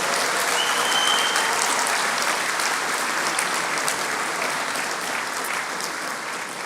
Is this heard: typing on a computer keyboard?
no